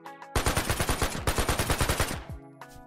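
Rapid bursts of gunfire from two guns fired at once, one in each hand, in the video game Project TX, a dense stream of close, loud shots lasting about two seconds before stopping abruptly.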